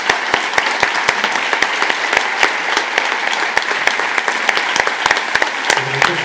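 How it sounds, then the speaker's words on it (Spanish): An audience at a poetry recital applauds steadily for the women who collaborated on the music, a dense wash of many hands with distinct sharp claps standing out throughout, fairly close and continuous. "Un aplauso por para vosotras."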